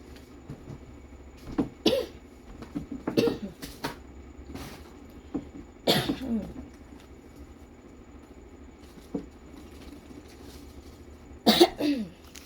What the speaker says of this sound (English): not trying to cough your ear off.